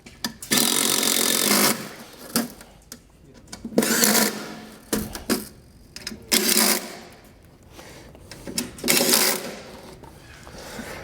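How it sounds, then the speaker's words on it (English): Small stainless steel bolts are tightened on a brake plate assembly, heard as repeated bursts of ratcheting and metallic clicking separated by short pauses, close up and fairly loud. "Now we can start tightening the little stainless steel bolts"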